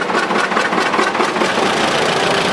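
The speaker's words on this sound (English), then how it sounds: "John Deere Model R, 1952" A 1952 John Deere Model R tractor engine runs loud and close during a county fair tractor parade, a steady rumbling chug with an even pulsing beat and no talk.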